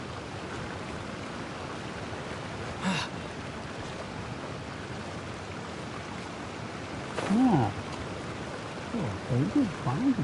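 Steady rushing of a waterfall in Genshin Impact's Mondstadt, a continuous broadband wash with brief voices breaking in over it.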